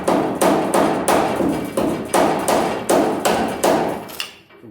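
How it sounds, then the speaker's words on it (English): A hammer strikes a chisel to knock factory seam sealer off a car quarter panel, nine loud, evenly spaced metallic blows ringing close by, then stopping. "Kind of chisel off any of this seam sealer that's hanging on there."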